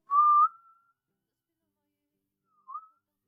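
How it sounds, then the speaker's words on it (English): A whistled melody from a music track: one sustained, wavering whistled note, a long silence, then a brief second whistle, clear and isolated. "the pan flute starts out or the whistling starts"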